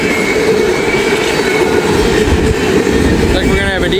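A northbound Norfolk Southern freight train passes close by at night, a loud, steady roar of rolling cars with rhythmic clickety-clack and a brief wheel squeal near the end, while a person talks faintly underneath.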